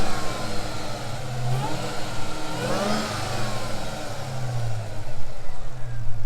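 A 2023 Dodge Charger Hellcat SRT V8 idles loudly with the hood open, rumbling low and rising into a couple of throttle blips and revs, heard close up and continuous without talk.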